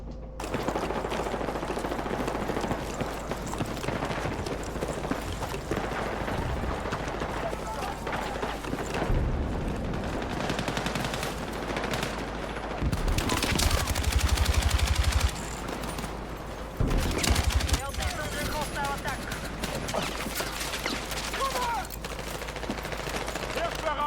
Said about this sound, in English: I like the way that rocket sounded. Did y'all hear that? It's a boom.